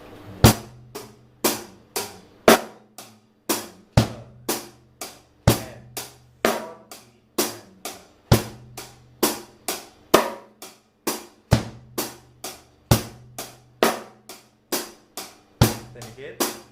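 Drum kit playing a steady 16-beat groove with the third-beat note dropped: crisp, evenly repeating hits with regular low kick thumps, played alone at a moderate, close level throughout.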